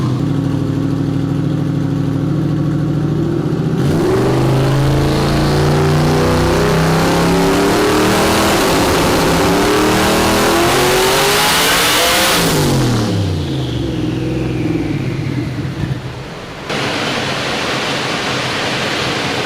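A Coyote-powered Mustang roars on a dyno pull, engine note climbing steadily in pitch over about nine seconds, then dropping sharply as the throttle closes and settling into a loud, rough idle with no talk.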